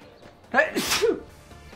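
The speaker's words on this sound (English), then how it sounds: "Well, I tried fighting that sneeze, but I lost" A single sharp human sneeze, close and fairly loud, with a quick inhaled buildup and an explosive burst, then brief trailing noise.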